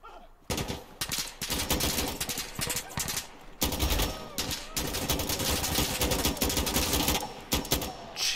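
Rapid, loud automatic gunfire rattles almost continuously in the tactical shooter Insurgency Sandstorm, broken by a few brief pauses between dense bursts.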